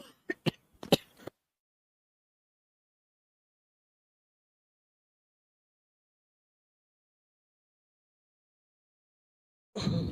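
A few sharp throat clears and a short cough up front, then long silence before another brief noise at the very end.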